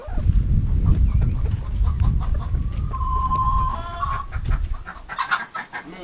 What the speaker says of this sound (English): Brett, you mind locking up the chickens?